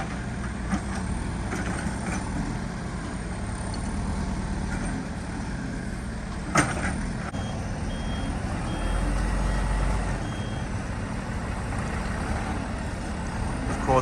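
A concrete truck reverses near a cistern construction site, its backup alarm beeping steadily over a low diesel rumble and heavy machinery noise, with a sharp clank partway through.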